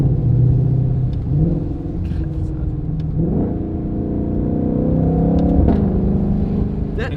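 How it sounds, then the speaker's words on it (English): A 760 hp 2020 Shelby GT500 engine revs loudly and close on the road, its steady rumble rising and falling with a couple of brief pops back through the intake. "get that little feeling of popping back through the intake"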